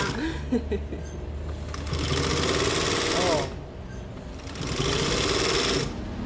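A home sewing machine, its drive belt not yet replaced, stitching through fabric for a underwire crop top, running in loud steady bursts with a short pause between, close up, with some faint speech.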